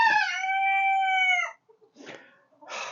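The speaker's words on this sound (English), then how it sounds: "I wanted one rooster, and I've got, what, 10 of them?" A rooster, one of about ten kept on a snowy winter homestead, crows loudly and close by in one long drawn-out call, followed by a few softer clucks and rustles.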